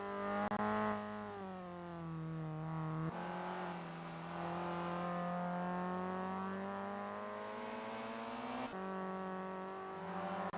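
Race car from a racing simulation game on its out lap warming tyres, the engine droning steadily with rising and falling pitch as it accelerates and shifts gears, loud and close throughout.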